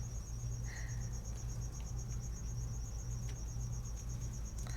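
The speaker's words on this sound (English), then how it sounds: "can you guys hear that cricket? We have a cricket." A single indoor cricket chirps in a fast, steady pulsing trill. It sounds faint and thin over a low electrical hum, and a few small clicks come through now and then.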